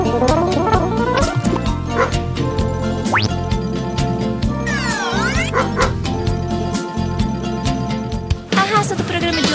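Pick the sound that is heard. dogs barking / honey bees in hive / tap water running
dogs barking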